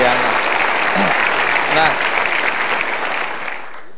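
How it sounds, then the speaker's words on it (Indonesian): Studio audience applause on an Indonesian television talk show, dense and steady from the start, then thinning and fading out near the end, with a brief spoken word over it. "Kita berikan tepuk tangan lagi untuk Ibu Diana."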